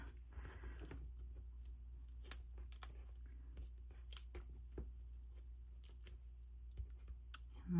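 Scissors snipping through paper and a Festive Friends craft slider, a run of small crisp clicks and snips spread across the whole stretch, close and fairly quiet over a low steady hum.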